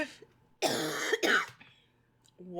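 Two sharp, close coughs in quick succession, followed by a short breath.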